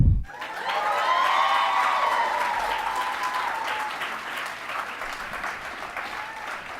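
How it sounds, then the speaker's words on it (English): An audience at a graduate comics reading event breaks into applause after a sharp opening sound, steady clapping that swells, then slowly thins and fades over several seconds. "with a big round of applause, let's get things started"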